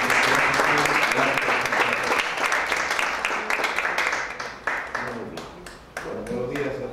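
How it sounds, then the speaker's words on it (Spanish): Audience at a university lecture applauding to welcome a speaker, a dense, sustained round of clapping that slowly thins toward the end. "le damos un fuerte aplauso"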